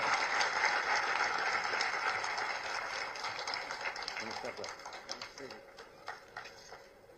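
An audience at a Haryana public ceremony applauds the chief minister with sustained, fairly distant clapping. The applause gradually thins into scattered claps over about seven seconds.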